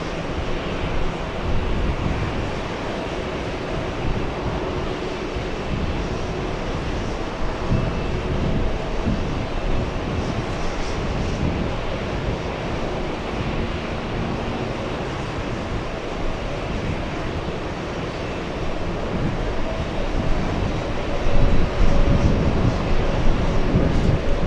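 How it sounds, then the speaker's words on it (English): A JetBlue Airbus A321neo departs JFK Airport, its jet roar a steady, broad rumble that holds throughout and swells slightly near the end, with wind noise on the microphone. "JetBlue 1759, that's an A321neo."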